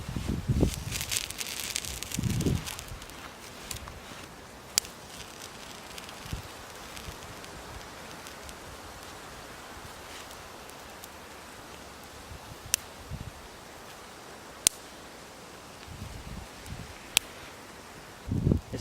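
Wind blowing outdoors near a small fire being built, heard as a steady, soft broadband rush with gusty buffeting on the microphone at the start and end, plus occasional faint clicks, with no talking.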